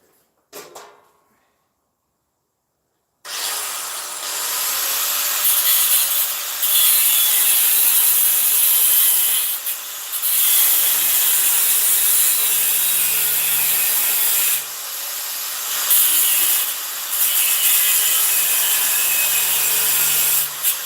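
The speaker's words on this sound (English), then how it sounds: "I can get on in there with the grinder a little." A grinder working on a shop floor, loud and near, running in long sustained harsh passes with brief dips after a short quiet start.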